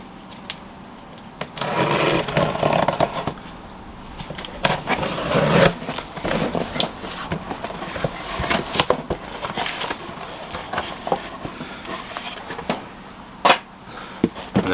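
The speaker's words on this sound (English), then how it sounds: "Got my trusty little knife. Let's open the box." A small knife slicing through tape and cardboard on a stand mixer's shipping box, with scraping, tearing and rustling strokes at close range and a few sharp knocks, no talking.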